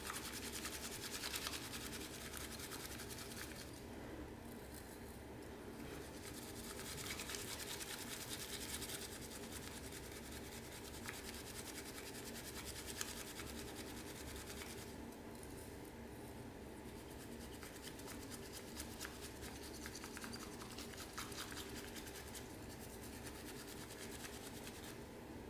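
Matcha latte being whisked until frothy, a steady close-up swishing and rattling that runs without a break for the whole stretch, with no one talking over it.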